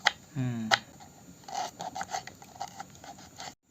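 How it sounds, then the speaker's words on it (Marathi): Dried coconut is cut finely with short rasping, scraping strokes against a hard surface, close and fairly quiet, in a village kitchen. A brief tonal squeak comes early, and there is no talking. "आणि हे बघा खोबरं तर पूर्ण कापून झालंय"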